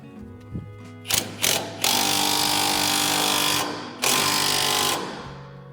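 A power tool tightens a Toyota Tacoma lower ball joint, sounding as a few short revving bursts followed by two sustained loud whirring runs, close and without talk.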